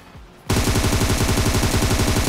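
Rapid automatic gunfire in the mobile shooter PUBG Mobile starts abruptly after a quiet half-second and hammers on in a fast, even, loud stream of shots.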